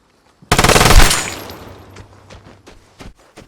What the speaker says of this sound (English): This freaking light machine gun, dude.